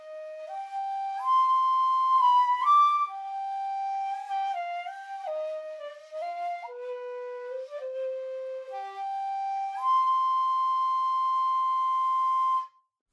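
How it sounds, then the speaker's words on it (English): A Chinese instrument patch from the Orchestral Tools Phoenix Orchestra sample library, played dry on spot mics, carries a solo wind melody that steps up and down through sustained notes. "let's take a look quickly at Phoenix Orchestra from Orchestral Tools."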